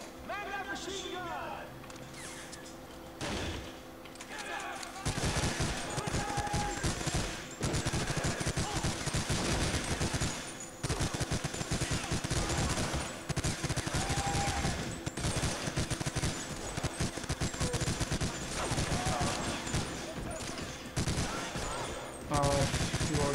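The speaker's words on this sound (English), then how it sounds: "Man that machine gun!" Rapid machine gun fire in a shooter game, long chattering bursts with short pauses that start after a quieter opening and continue, fairly loud, while people talk over it.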